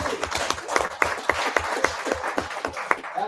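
An audience claps in a steady, rhythmic patter of hand claps at moderate distance, fairly quiet, with no talking over it.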